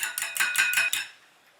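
Eggs are beaten in a bowl: six quick, evenly spaced metallic clinks of a utensil against the bowl, close and bright, then the sound stops.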